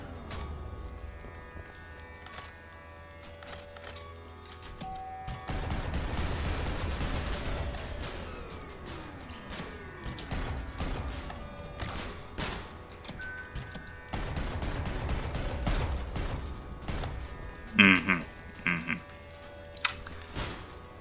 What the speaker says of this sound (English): So apparently it's an alternate version of the railgun. We shoot saw blades now.